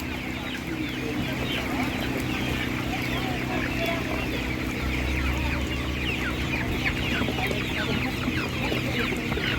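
Czech Dominant chickens, light and dark birds with combs, cluck and chatter continuously at a busy outdoor animal market, with steady crowd noise and someone talking over the flock.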